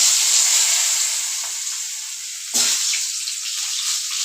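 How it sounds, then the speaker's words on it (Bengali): Potato and cauliflower pieces fry in hot oil, a steady close sizzle and crackle with a sharper splash-like burst midway as more pieces go in. "মাছগুলো তেলের মধ্যে আমি আলু ফুলকপিটা তো ভেজে নেব।"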